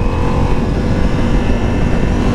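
Steady, loud motorcycle engine drone with a continuous revving rumble, recorded close up while riding in third gear during a motovlog speed run, with no voices over it.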